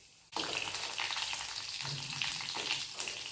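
Chopped garlic hits hot oil with cumin seeds in a sudden burst, then sizzles and crackles steadily and fairly loudly, with no voices.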